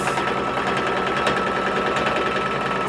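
A sewing machine stitches a crumb quilt border, a steady rapid mechanical whir and tapping running close and continuously throughout, with no voices.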